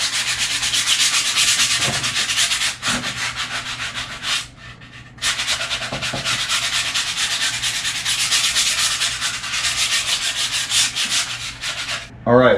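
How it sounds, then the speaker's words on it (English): Sandpaper rubbed by hand over a painted area in steady, close, loud back-and-forth strokes, with one brief pause midway. "I'm just going to sand the area that's painted."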